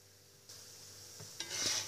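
Moroccan pastry dough frying in an oiled pan, a faint sizzle that rises as it is turned over, with a soft clink near the end.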